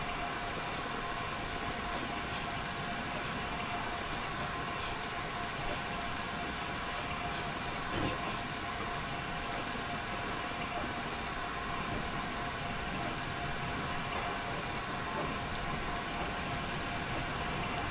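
A simulated steam locomotive rolls slowly in Train Simulator Classic, a steady rumbling chug and rail hum with faint clanks, continuous and even throughout, with no talk.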